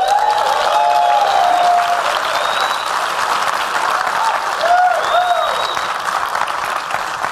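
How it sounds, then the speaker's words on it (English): Audience at an event honoring Jacque Fresco breaks into steady, dense applause, with a few whistles and cheers rising over the clapping. "I think we need to give him one more round of applause for that."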